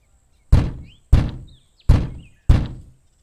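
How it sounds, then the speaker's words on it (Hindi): Four loud, evenly spaced knocks land on a wooden door at the home of Bholu's sister Sushma, each a solid thud that ends sharply, with silence between and no other sound. "फिर भोलू अपनी बहन सुषमा के घर पहुंच के दरवाजा खटखटाता है।"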